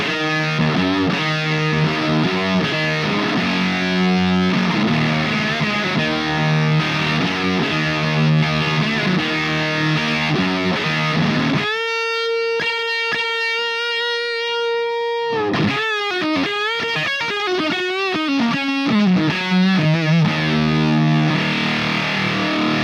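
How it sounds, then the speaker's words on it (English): Big Muff fuzz pedal on electric guitar, thick sustained distorted tones and riffs that stop for a held chord, then go on in choppy bursts, loud and alone without talk. "here are some Big Muff tones"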